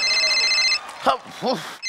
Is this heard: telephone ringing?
yes